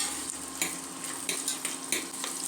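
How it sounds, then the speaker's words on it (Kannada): Chopped onions hit hot oil in a pan for a soya and green pea rice dish, giving a soft, continuous sizzle broken by a few brighter crackling bursts as they are stirred, with no voices. "ಎಣ್ಣೆ ಬಿಸಿಯಾಗಿದೆ, ಅದಕ್ಕೆ ನಾನು ಈರುಳ್ಳಿ ಕಟ್ ಮಾಡ್ಕೊಂಡಿರೋದು ಹಾಕ್ತಾಯಿದ್ದೀನಿ. ಈರುಳ್ಳಿ ಒಂದು 2 ಸೆಕೆಂಡು ಫ್ರೈ ಆಗಲಿ."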